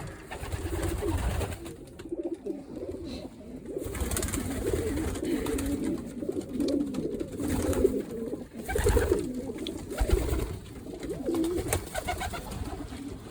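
Breeding pigeons with young squabs coo continuously in soft, throaty murmurs, several birds overlapping nearby in a steady rumbling chorus.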